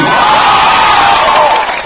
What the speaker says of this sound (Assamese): আমাৰ ৰীনা বাইদেউ আমাৰ মাজত উপস্থিত, সকলোকে হাত তালি।